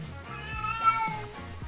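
A cat minion in the card game Hearthstone meows in quick succession, with several short, rising and falling mews at moderate, steady volume.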